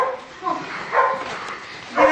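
Two dogs barking in short bursts at a countryside home visit among hills, with a few separate yaps close by and a voice speaking over part of it.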